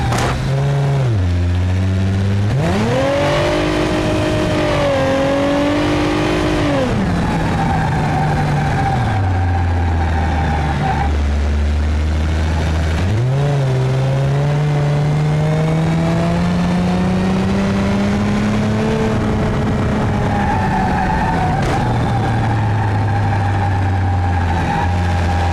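A 3.5 liter V6 car engine in BeamNG.drive revs repeatedly, rising and falling in pitch through the gears, loud and steady throughout with no voices.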